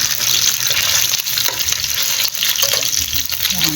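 Food toasting in a hot pan while cooking, a loud, steady crackling sizzle that continues without pause and with no talking.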